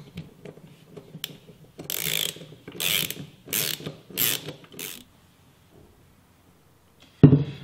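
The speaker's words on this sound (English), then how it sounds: "Use the dynamometric wrench for the correct strength to tighten the bolts in accordance with the chart" Torque wrench tightening bolts on a stainless steel AISI 316 magnetic drive centrifugal pump, a series of about six quick ratcheting bursts close up, then quiet and a final clunk.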